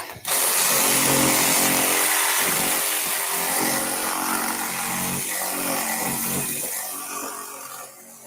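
A power saw with a carbide-tooth blade cuts out a wall plate during a renovation, making a loud, steady, harsh whine with rough buzzing that runs for several seconds before easing off. No voices.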